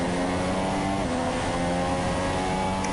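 An F1 car's engine in a racing video game stays stuck at maximum revs during a Bahrain Grand Prix race, giving a loud, unbroken high-pitched drone with a steady harmonic whine that never rises or falls.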